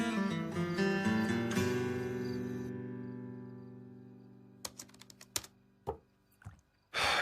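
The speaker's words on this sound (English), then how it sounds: "Mom's been typing for 6 hours straight." Keyboard typing in an indoor scene, a few scattered, sharp key clicks following a fading music chord, near and fairly quiet.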